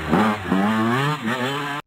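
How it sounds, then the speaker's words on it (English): A motorcycle engine revs up in a couple of rising surges, close and loud, then cuts off abruptly. "Motorcycles that go."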